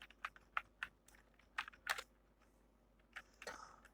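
Code is typed on a computer keyboard in irregular clusters of crisp, close keystrokes with short pauses between bursts, quiet overall and without speech.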